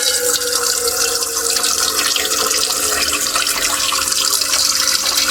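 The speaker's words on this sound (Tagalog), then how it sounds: "Sige, lagyan mo ng tubig." Water pours steadily into a cooking pot in a home kitchen, a continuous close, loud splashing rush with no talk.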